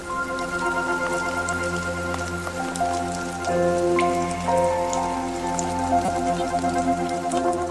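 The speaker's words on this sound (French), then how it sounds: "les oiseaux-mouches adorent la pluie et ne perdent jamais une occasion de prendre une bonne douche" Steady rain patters on a surface with scattered drips, continuous and even throughout, with a faint tonal hum underneath.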